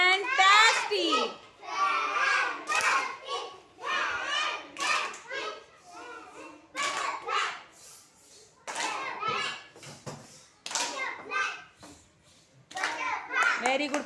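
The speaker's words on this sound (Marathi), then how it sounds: "जोरात टाळ्या पवित्रासाठी झाल्या पाहिजेत." Children in a classroom break into several rounds of loud group clapping for a classmate who has won a reading contest. The bursts come between stretches of an adult voice talking.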